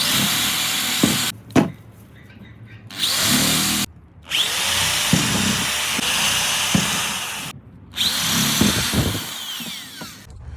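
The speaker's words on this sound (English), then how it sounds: "We're going to drill holes into the top of it, to promote the air circulation in there." A power drill bores holes into the top of a compost bin in bursts of whining, hissing drilling separated by short pauses, with clicks and knocks between the bursts; loud and close.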